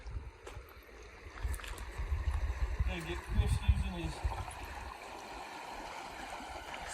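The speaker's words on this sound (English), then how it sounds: "Not sure what creek this is, but I got to the other side." A Yellowstone backcountry creek gives a steady broad rush of flowing water, with hikers' voices and the shuffle of crossing over it.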